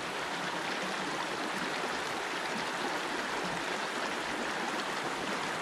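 A New Jersey brook flowing close by, a steady, even rush of babbling water heard from right at the bank, constant throughout with no voices.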